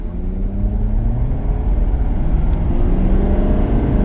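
Ford F250 pickup truck with a new engine tune accelerating hard through its gears, a loud steady low rumble with engine pitch climbing and dropping at shifts, heard close from inside with no talk.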